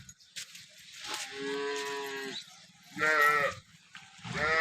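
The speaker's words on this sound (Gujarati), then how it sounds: "ગાય ખૂબ જ સારી છે" A cow on a dairy farm moos in three long, drawn-out calls, loud and close, separated by short pauses, with no talking.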